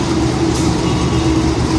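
A steady, heavy rumble of the Tawang Jaya train arriving at Jatinegara station, a constant low roar with a faint sustained hum running through it.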